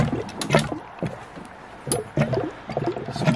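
A water reservoir tank burps air as its level rises, giving irregular gurgling bursts and wet glugs spaced a second or so apart, close and fairly loud against a quiet background.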